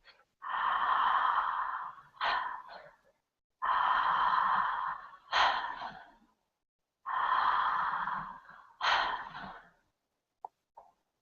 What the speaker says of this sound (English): Taking a couple more deep circular breaths.